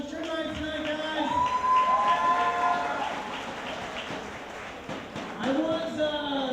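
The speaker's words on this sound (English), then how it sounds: "Give yourselves a round of applause." At a cancer charity event, a crowd cheers and claps in a continuous roar, with voices shouting and talking throughout the noise.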